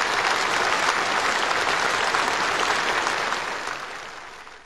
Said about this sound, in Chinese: 在热烈的掌声中